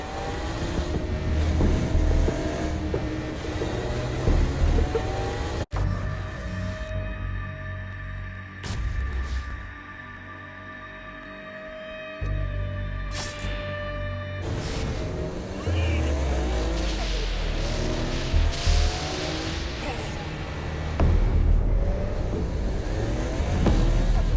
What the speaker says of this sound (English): Kinsey Kensington and Johnny Gat driving together on a birthday adventure